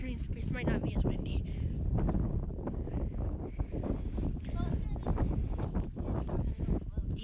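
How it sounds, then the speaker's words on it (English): Strong gusty wind roars across an open green space outdoors, buffeting the microphone continuously with loud low rumble while people talk over it. "The wind is so strong."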